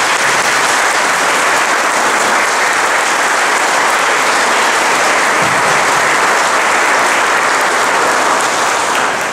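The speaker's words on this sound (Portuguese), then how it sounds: "A todos eles, uma salva de palmas" A courtroom audience at a São Paulo court of justice ceremony applauds, a loud, dense and steady clapping that keeps up without a break for the whole stretch.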